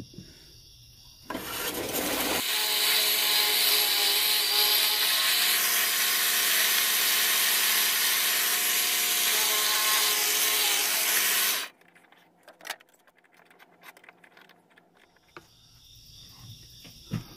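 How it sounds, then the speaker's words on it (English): A drill whirs into wood for about ten seconds in a steady high whine, then stops, followed by quiet scraping and handling noises. "I'm going to drill a pilot hole with a little smaller drill bit"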